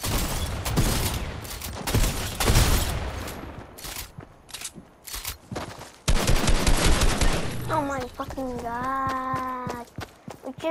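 Assault rifle fire in a video game crackles in scattered bursts and single shots, loud and near, with pauses between volleys and a voice sounding briefly near the end.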